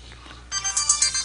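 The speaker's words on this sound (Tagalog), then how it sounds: "Cellphone." A cellphone ringtone starts about halfway through, rising sharply in a clear, repeating electronic melody after a quieter stretch of low room noise.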